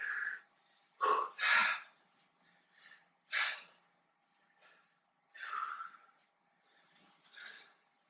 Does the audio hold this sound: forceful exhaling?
yes